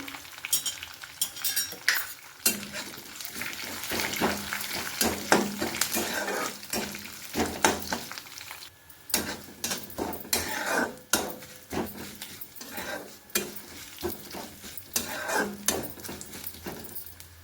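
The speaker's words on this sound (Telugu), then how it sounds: "తర్వాత కరివేపాకు ఒక వెల్లుల్లిపాయ రబ్బలు మొత్తం చితకొట్టి వేసుకుంటున్నాను" Crushed garlic cloves and curry leaves fry in a pan for Andhra gongura chutney, with a steady sizzle and repeated close clinks and scrapes of a stirring spoon against the metal.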